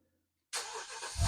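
A BMW N62 4.8 V8 engine cranks and catches after a moment of silence, firing up quickly with a rising rumble that builds into a heavier low roar as it starts running.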